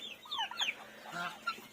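A chicken clucks a few times nearby, short quick calls in a quiet setting.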